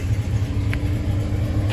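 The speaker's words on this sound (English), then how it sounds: "Let's let this car go by." Low, steady engine rumble of a car nearby, a continuous drone with no rise or fall, as if idling or passing slowly.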